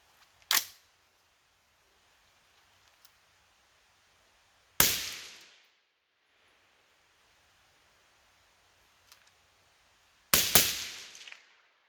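Three separate suppressed gunshots from a firearm fitted with a Griffin Optimus Micro suppressor crack out several seconds apart, each a sharp, fairly loud report with a short fading tail, close by at an outdoor range.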